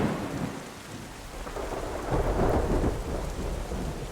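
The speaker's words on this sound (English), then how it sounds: "And the thunder, sound effects. So magical." Video game rain and thunder from Terra Nil: steady rain hisses throughout while deep thunder rumbles swell and roll, loudest toward the middle, with no voices.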